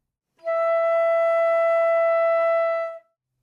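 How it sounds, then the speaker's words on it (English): A flute sounds E natural in the second octave as one clear, steady sustained note held for about two and a half seconds, alone and moderately loud. "The fingering for E natural in the second octave is the same as an octave below."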